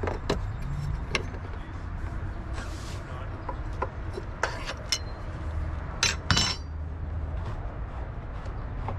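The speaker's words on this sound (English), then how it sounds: "I'll use my fuel filter wrench to break this loose." A fuel filter wrench clinks and clicks against the fuel filter of a Yamaha 4.2L V6 outboard as it is loosened, with a few sharp, close metallic ticks scattered over a steady low background hum.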